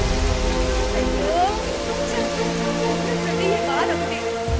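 Steady rain pours down in a Telugu film scene, a constant dense wash of falling water filling the background while a voice and faint music play over it.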